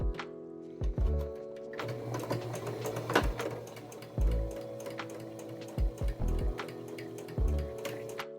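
A home sewing machine stitches down the turned-up, pinned edge of a costume sleeve in several short bursts with brief pauses between them, each run a fast mechanical clatter at close range with no voices.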